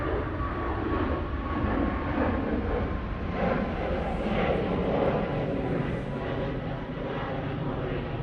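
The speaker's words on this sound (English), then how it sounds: "RyanAir now taking off from 23 right." A Ryanair Boeing 737 MAX 8 takes off from runway 23 right at Manchester Airport, its jet engines a steady, loud broadband roar that holds throughout with no talk over it.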